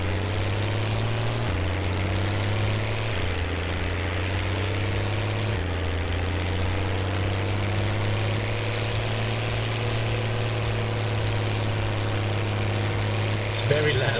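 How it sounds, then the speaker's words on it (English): A loud tractor engine from the Farming Simulator 17 video game drones steadily at a constant, heavy pitch with a whining overtone, running continuously throughout with only slight shifts in tone. "It's very loud, this tractor,"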